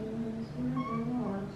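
A pet cat meows in a drawn-out, wavering call at close range, steady and moderately loud with no talk over it.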